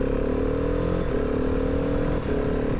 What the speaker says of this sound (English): you've got a gigantic single-cylinder engine